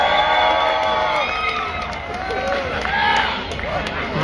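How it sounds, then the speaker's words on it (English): A crowd at a 420 gathering cheers and shouts loudly for a prize entry, a sustained mix of whoops, yells and scattered claps throughout. "All those that think that Goddamn Happy should get a prize, please give them a cheer on 3."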